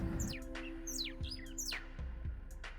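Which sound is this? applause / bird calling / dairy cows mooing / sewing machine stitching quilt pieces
bird calling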